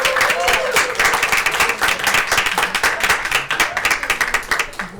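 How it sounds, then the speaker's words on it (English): Audience at a PATCH program graduation closing ceremony clapping, dense rapid hand claps sustained for several seconds at steady loudness, with a voice briefly audible at the start. "give yourself a round of applause"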